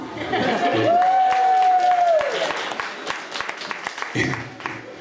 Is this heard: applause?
yes